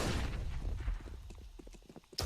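Quick rhythmic footsteps from a player in a Counter-Strike match (ESL Pro League, MIBR vs Team One) patter lightly in a run of soft thuds, following a louder burst of game noise, with another sharp hit at the end.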